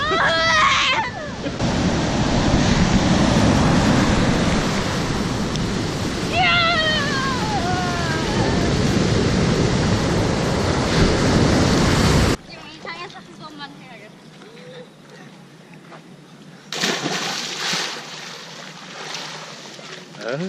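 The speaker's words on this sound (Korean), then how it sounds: "야 이게 이게 파도가 약하냐?" Rough sea waves surge and crash loudly at a summer beach, a continuous roaring wash for the first half, then quieter before another burst near the end, with people shouting and talking over it.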